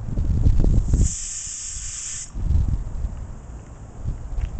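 A Hawkins Classic 3-litre aluminium pressure cooker, sanded and painted black, sits on a 5-foot parabolic solar stove and lets out one sharp, loud hiss of steam lasting about a second, with outdoor rumble before and after.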